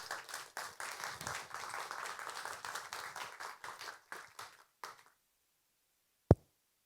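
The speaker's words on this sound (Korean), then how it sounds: "여러분 큰 박수로 이진순 상임대표님과 최은길 공동대표님을 환영해" Audience applause welcoming speakers at a civic members' event, a lively patter of clapping that thins out and fades, followed by one sharp knock after a pause.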